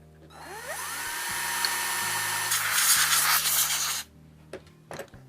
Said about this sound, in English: I'm going to do that by drilling a hole